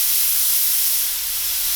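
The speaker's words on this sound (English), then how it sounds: "whenever we're spraying, we can literally clean it all out instantly right here" An aerosol can of paint gun cleaner sprays in one continuous, loud, close hiss with a slight dip in strength partway through and no talk over it.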